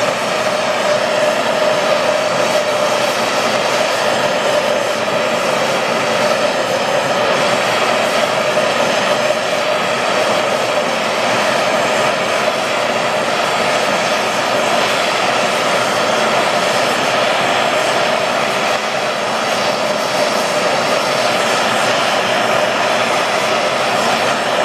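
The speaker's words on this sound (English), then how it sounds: "I'm gonna turn the torch up so we get kind of noisy here." Welding torch turned up high while joining aluminum, a loud steady broadband roar of flame that holds constant for the whole stretch with no talk over it.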